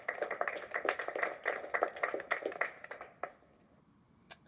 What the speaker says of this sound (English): Just go give us a little bit of round of applause